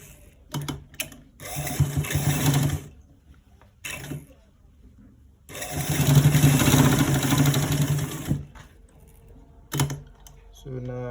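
A sewing machine stitches elastic onto the back of a waistband in short runs and one longer burst, its steady motor hum starting and stopping between pauses.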